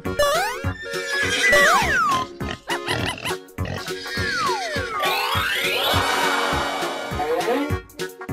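A cartoon horse whinnies among loud, busy cartoon effects, with rising and falling sliding tones and bouncy sounds layered over a rhythmic backing track.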